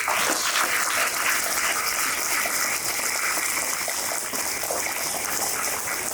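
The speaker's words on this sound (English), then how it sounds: "Give a big round of applause to you all first" An audience at a school science expo applauds the students, with dense, steady clapping that runs loud and unbroken throughout.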